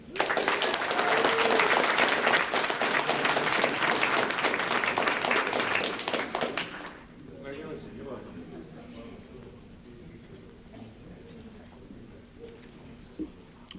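An audience claps loudly for an elementary school essay contest winner, the dense applause lasting about seven seconds before stopping abruptly, followed by a quiet room with faint murmurs and small sounds.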